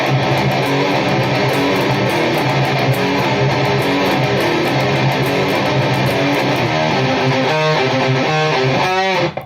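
Heavy distorted electric guitar runs through the full riff of a song, dense chugging chords moving up the fretboard, loud and continuous, with quicker picked notes near the end.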